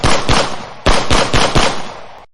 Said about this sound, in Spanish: apretó el gatillo 6 veces seguidas